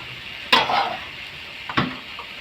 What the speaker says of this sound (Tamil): நல்லா கீரையை போட்டு பரட்டிக்கலாம்